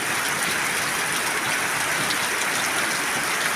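Steady rain pours down in a dense, even hiss, falling continuously on surfaces close by with no voices.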